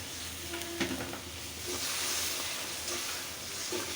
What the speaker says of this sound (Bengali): এখন আস্তে আস্তে একটু মশলাটা কষাবো